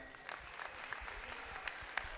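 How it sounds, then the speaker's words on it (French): An audience applauds at the televised finale of a schools quiz show in a sports arena, fairly faint and distant, a continuous patter of clapping with a few sharper claps. "C'est encore le lieu, mesdames et messieurs, de les applaudir."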